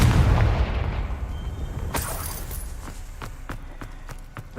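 An explosive Confringo spell blast in Hogwarts Legacy lands with a deep booming burst that decays into a rumble, followed by a few sharp crackling impacts.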